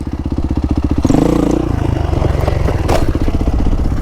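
A dirt bike engine chugs at low revs during a slow wheelie, a loud, close, pulsing thump that surges and clatters as the bike loops out, then settles back to an uneven idle.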